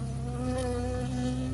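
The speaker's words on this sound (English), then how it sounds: "Good thing I'm not allergic to freaking bees." Bees buzz loudly and steadily in the Firewatch video game, a close, continuous drone with a strong pulsing hum that carries unbroken through the whole short moment.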